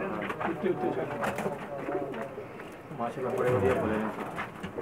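Breeder pigeons cooing close by on a rooftop in soft, low repeated calls, mixed with rustling and nearby people talking.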